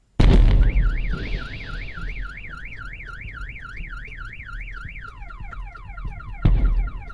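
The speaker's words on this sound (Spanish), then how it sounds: "Y desata las alarmas de los autos." Car alarm blaring alone after a sudden loud burst, its rapid wailing siren oscillating steadily for several seconds before switching to a different stepped pattern, with another loud crash near the end.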